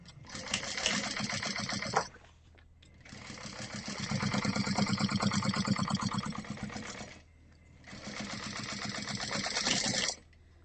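A sewing machine stitches fabric for a dice pouch in three bursts: a short run, a longer steady run, then another short run, a clear mechanical whir with quiet pauses between.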